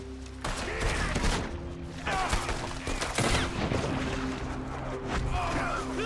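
Gunfire crackles through a shootout in Red Dead Redemption 2, with dense bursts of shots and impacts repeating over several seconds at steady loudness, while faint voices occasionally surface.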